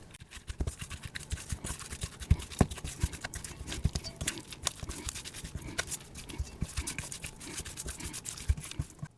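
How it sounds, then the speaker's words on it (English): Ingredients for biscuits and gravy are mixed by hand in a bowl, giving quick irregular clicks, scrapes and taps of a utensil against the bowl, close and alone. "We're just gonna mix this up and combine it."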